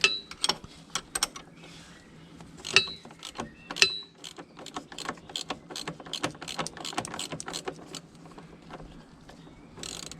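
Wrench work on the rear shock bolt of a 2009 Kawasaki ZX10R: a close run of sharp metallic ratchet clicks and clinks, bunched at first and then coming steadily, over a low hum.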